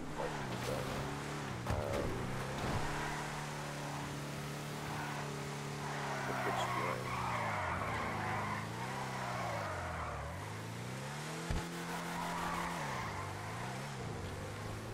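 The Army jeep Winky in GTA 5 drives along with its engine droning and swelling through repeated rev rises and falls, broken by a couple of sharp skid and thump moments.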